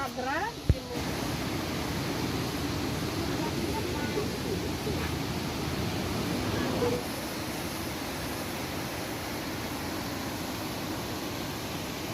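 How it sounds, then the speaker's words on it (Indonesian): The Cikapundung River in Bandung, West Java, flows with a steady, dense roar of rushing water lasting throughout, close and constant, with a brief sharp knock near the start and no clear talk. "Ini nih Sungai Cikapundung yang menopang ibu kota Jawa Barat, Kota Bandung."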